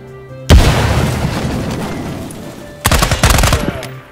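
Gunfire in the tactical shooter Ground Branch: a loud, close blast opens and decays into a rumbling tail, then a rapid automatic burst of several sharp shots follows near the end.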